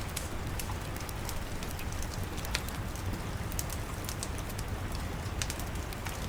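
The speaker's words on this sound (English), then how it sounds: "I hope it just keeps raining the whole time." Steady rain falls in the survival video game Primitive Society Simulator, a continuous hiss of drops patters on surfaces with scattered sharper ticks throughout, even and unbroken.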